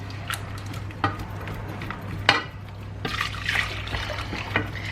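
Milk poured into a white sauce in a pan, close trickling and small splashes with soft taps and stirring clinks over a low steady hum, no talking.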